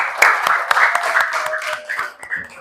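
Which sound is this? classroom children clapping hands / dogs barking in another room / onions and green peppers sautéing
classroom children clapping hands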